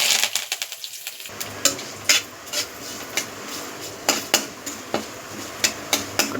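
Curry leaves crackle and sizzle sharply in hot oil, with irregular pops and spatters over a steady frying hiss.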